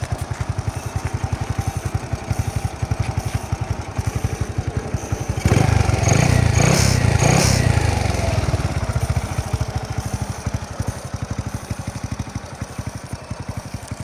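A Honda Wave 100 motorcycle with its original engine and exhaust idles steadily with an even, quiet, close putter. Midway the engine briefly revs up louder before settling back to a smooth idle.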